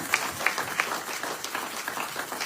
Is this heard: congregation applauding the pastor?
yes